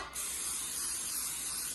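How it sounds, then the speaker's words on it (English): A steady aerosol hiss of Pam cooking spray on four bread pans, one continuous burst lasting nearly two seconds, close and fairly loud. "I'm just gonna spray it with some Pam."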